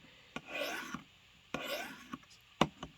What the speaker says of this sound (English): we're sharpening on the Work Sharp field sharpener